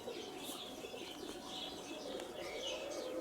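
Pigeons cooing and chirping in a flock under a falcon's threat, a steady mix of soft calls and faint wing flutters close by with no talk.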